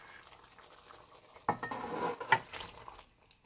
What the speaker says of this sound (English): So I'm going to add my meatballs in here now.